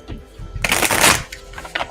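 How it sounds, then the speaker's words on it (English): A deck of tarot cards is riffled and shuffled by hand, close and crisp. A burst of rapid flutters ends in a few lighter taps. "Give it a shuffle here."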